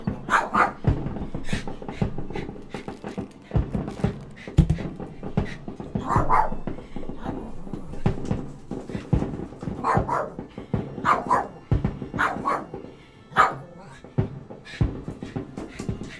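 A dog whines and whimpers repeatedly during nearby fireworks, with short yips and barks mixed in, close by and fairly loud; a person speaks quietly at times.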